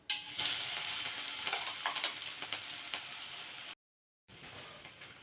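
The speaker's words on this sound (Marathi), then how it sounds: "आता हे मिरची आणि लसूण भाजलं" Ground green chilli and garlic sizzle and crackle in hot oil with mustard seeds and cumin, a soft, steady frying hiss with light stirring scrapes, heard close up, then a brief silence before the sizzle returns.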